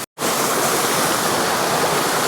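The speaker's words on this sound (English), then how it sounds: "Got this beautiful split waterfall here, cascading down." A split waterfall at Tintwistle's Seven Waterfalls in the Peak District cascades down in a steady, loud, broadband roar that carries on unbroken and alone after a very brief silent start.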